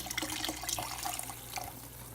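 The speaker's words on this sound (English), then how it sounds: "I'm going to add some water" Water pours into a pot for pasta e fagioli, a faint, splashy stream with small gurgling bursts, steady throughout and without talk.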